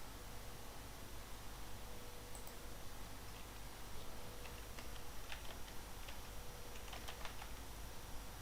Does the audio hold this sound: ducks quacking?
no